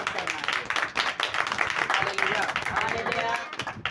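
A church congregation at a Hindi sermon claps together as an offering to God, a dense run of applause throughout with a preacher's voice over it.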